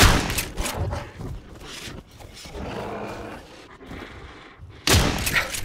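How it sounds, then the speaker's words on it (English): A shotgun firing at brute creatures in the survival game Miscreated: heavy booming blasts with growling creature roars, loud and close, two main bursts with a rumbling tail in between. "I've got a shotgun with a bunch of ammo, which I'm gonna waste now on brutes"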